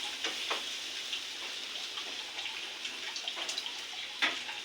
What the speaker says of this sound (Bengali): ঠাকুর ঘরটা ভালো করে গঙ্গা জল দিয়ে আমি মুছে নিচ্ছি